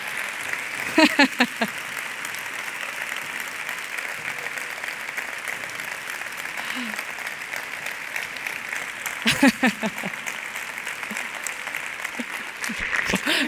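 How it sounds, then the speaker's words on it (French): Conference audience at a women's forum applauding, sustained dense clapping for over ten seconds, loud and close, with a couple of brief spoken interjections over it. "Je vous demande de l'accueillir sous un tonnerre d'applaudissements pour la remercier pour son engagement."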